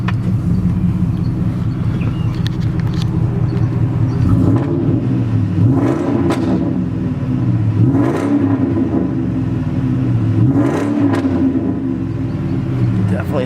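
A deep, rumbling 2013 Ford F-150 SVT Raptor Roush pickup engine idles and revs in repeated swells, loud and close, with a throaty growl that rises and falls several times.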